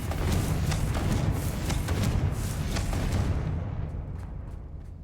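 A Confringo explosion spell goes off in a video game as a loud, sustained boom with rumbling low-end burst texture, thinning out and fading over the final second.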